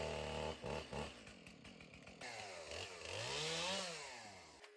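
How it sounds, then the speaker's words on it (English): A chainsaw trims branches close by, its engine revving up and down in pitch as it cuts, loud and continuous before cutting off at the end. "Tater took the chainsaw and just started trimming branches to clear some space to work."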